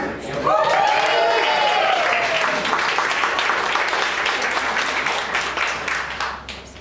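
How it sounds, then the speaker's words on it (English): Audience applause at a live stage show in Sydney, loud and sustained clapping from a large crowd that rises quickly and holds for several seconds before tapering, with a voice heard near the start. "I haven't got that much applause all added up, but all right."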